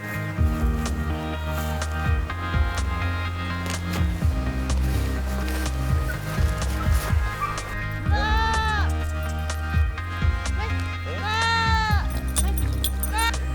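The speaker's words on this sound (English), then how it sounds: "So the first thing we did was start bringing in the goats." Goats bleat a few times on a homestead with wavering, nasal cries over a steady bed of music and background sound.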